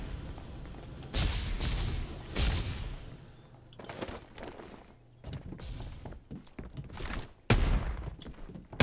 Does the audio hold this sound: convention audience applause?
no